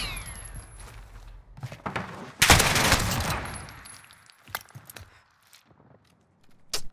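Holger rifle fire in a shooter video game: a loud dense burst of automatic shots around the middle, with scattered sharp single cracks and clatter before and after against a quiet background.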